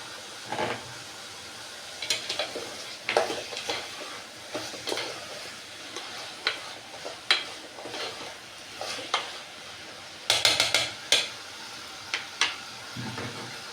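Onions and tomatoes cooking in a pan for a Sunday mutton curry, a soft, low sizzle under frequent sharp scrapes and clacks of a spoon stirring against the pan, heard close by.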